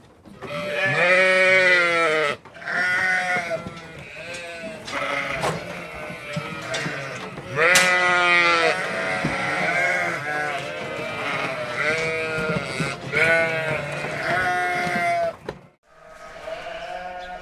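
Many sheep bleat continuously and loudly in a slatted shed, overlapping calls filling the enclosed space, with a brief pause near the end.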